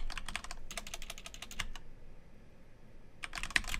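Typing on a computer keyboard while writing SQL queries, two quick bursts of close, crisp key clicks separated by a pause, then a short final flurry, with no talk over it.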